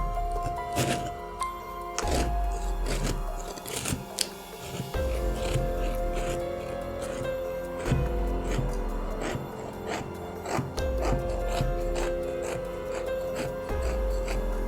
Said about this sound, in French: Je découpe délicatement le gâteau en suivant mon patron.